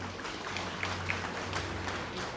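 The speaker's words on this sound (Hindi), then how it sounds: "उनके लिए विशेष तालियां जोर से बजाइए" Crowd applause at a strike rally, a dense steady wash of many hands clapping, somewhat distant and moderate in level, continuing evenly throughout.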